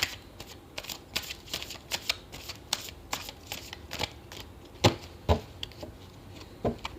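Tarot cards being shuffled by hand, a close series of crisp riffling flicks and sharp card snaps in an irregular rhythm, with a few louder slaps near the end and no talking over it.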